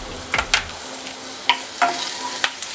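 Green chilies crackle and sizzle in hot oil in a pan, with a few sharp pops and stirring scrapes over a steady frying hiss, close and clear with no talking.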